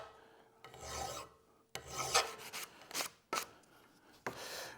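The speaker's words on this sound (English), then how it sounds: "about a half an hour worth of file, and it's left me with a nicely tapered shank for our awl" A hand file rasps along a steel awl shank in repeated long strokes, each a gritty scraping burst separated by short pauses, close and fairly quiet with no voices.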